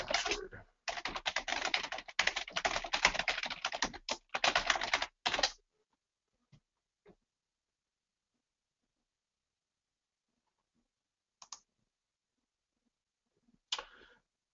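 Rapid, close keystrokes on a computer keyboard clatter in quick bursts for about five seconds while an email password is entered, followed by near silence with a few isolated clicks.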